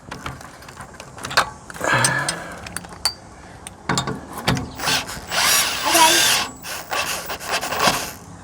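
A power tool runs in short whirring and ratcheting bursts while tightening sway bar link bolts during an OEM camper package install on a Ford F250, with clanks and handling noise between the bursts.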